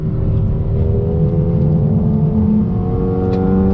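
A 2021 Mercedes-AMG GLA 35 accelerating out of a right-hand bend, its engine droning loud and steady with rising harmonic tones and road rumble beneath, continuous for a few seconds with no talk.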